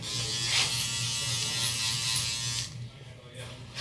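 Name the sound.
small electric shaver buzzing during a haircut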